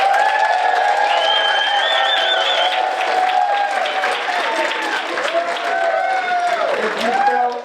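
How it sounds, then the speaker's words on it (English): A seminar audience applauds for a speaker named Tanya with loud clapping, cheering and whoops, voices shouting over the steady applause as it carries on. "If you felt that Tanya provided the most value, give her a round of applause."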